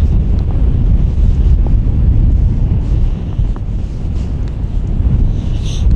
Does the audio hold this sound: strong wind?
yes